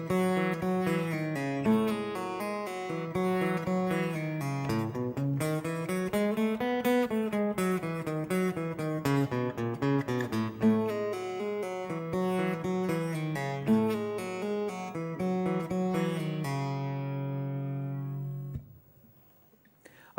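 Guitar playing a repeated riff phrase from the B section of a song, a steady run of picked single notes that climbs and falls, loud and close, then stops with a short ring-out near the end.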